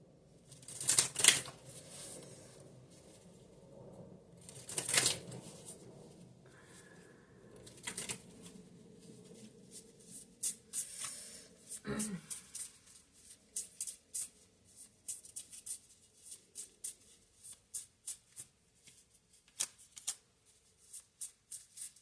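Playing cards being handled and shuffled close up, with a few riffle bursts early on followed by a long run of quick, crisp flicks and snaps, fairly loud with no talking.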